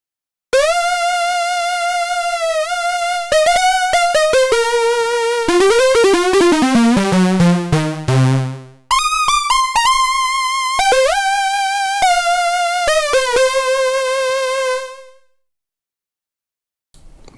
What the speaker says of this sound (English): Very straightforward, bright lead sound.